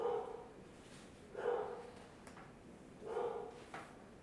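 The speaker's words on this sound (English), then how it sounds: "And that's the dog barking." A dog in the video game Mass Effect gives three muffled, moderately quiet barks, evenly spaced about one and a half seconds apart, against a soft background hum.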